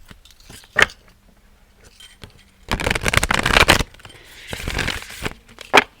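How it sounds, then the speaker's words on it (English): Crisp, riffling bursts of cards being shuffled hard against a tabletop, with short clacks and quieter pauses between the shuffles. "We will do a couple of hard shuffles here on the table."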